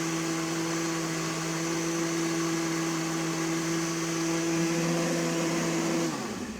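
A blender whirs loudly and steadily as it blends tomatoes into smooth juice, a high motor whine that holds evenly and then winds down near the end, with no voices.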